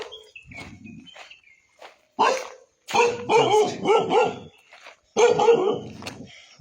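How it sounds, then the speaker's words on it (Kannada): A dog barks loudly and repeatedly in short bursts near a house in a hilltop village in Uttara Kannada, Karnataka, with quieter yips and shuffling steps between barks. "ಯಾವ ಥರ ಬೊಗಳಕತ್ತೈತಿ ನೋಡಿದ"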